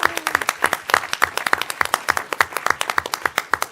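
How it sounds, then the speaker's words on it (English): An audience at a state board meeting claps in a round of applause, a brisk, dense run of hand claps from a modest crowd, fairly close and steady throughout. "a round of applause"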